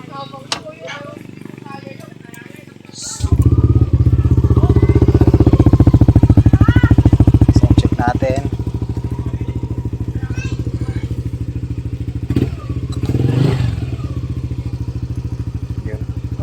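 A motorcycle engine runs after its fourth oil change at about 5,901 km, starting up partway in with a loud, steady low rumble and then settling into a quieter idle while people talk nearby.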